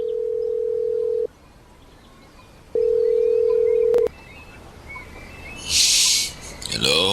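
A phone rings out on an unanswered call: two long, steady tones separated by a gap, then a sharp brief burst of other noise near the end, with no talk over it.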